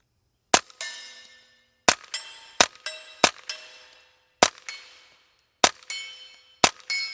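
Eight suppressed 9mm shots from a Ruger PC Carbine, each a sharp crack followed by a bright metallic ring from steel dueling-tree paddles, spaced irregularly over a few seconds with no talking.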